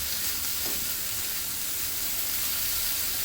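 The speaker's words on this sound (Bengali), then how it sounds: "এইভাবে একটু নেড়ে নিলে তারপরে সুন্দর ভাজা ভাজা হবে" Bottle gourd leaves frying in a pan while being stirred, a steady dense sizzle and hiss running throughout without pause, close and fairly loud, with no voices.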